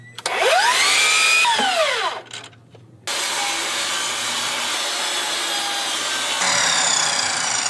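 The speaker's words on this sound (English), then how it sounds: "So I cut a dado out of this board so that it'll sit up against the trim" Saw cutting a dado into a wooden deck board on a staircase repair, with a short whining burst, a brief pause, then a long steady rasping cut running several seconds, close and fairly loud.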